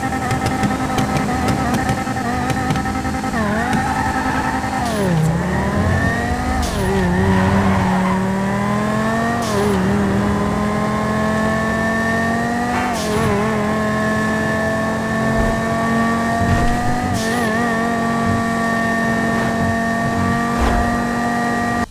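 A loud Banshee GTS sports car engine in a video game, revving up and down through gear changes, with rising and falling pitch and occasional tire squeal, continuous throughout.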